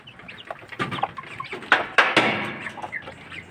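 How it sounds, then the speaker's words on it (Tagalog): Newly hatched chicks chirp and peep in a busy, close cluster of short high calls, with a few louder bursts overlapping one another. "Ito naman yung bagong pisa."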